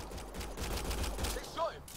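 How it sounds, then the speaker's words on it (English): Faint, muffled bursts of gunfire from the Mass Effect Andromeda video game crackle in the background, a scattered run of shots at low volume with a brief vocal sound near the end. "They shot him."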